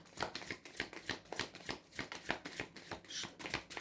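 Tarot cards are shuffled and drawn in quick, rhythmic papery riffles and flicks, close and steady throughout, with no voices.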